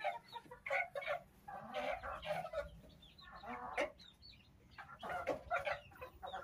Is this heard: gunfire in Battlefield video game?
no